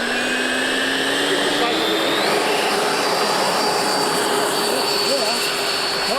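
An RC model plane flies overhead with a loud, steady droning whine whose pitch climbs slightly partway through and holds. The motor noise fills the whole stretch.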